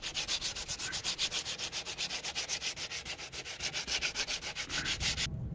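A welded body panel on a second-generation Toyota Prius is sanded smooth with quick, regular back-and-forth strokes, a close, steady rasping rhythm that stops abruptly at the end.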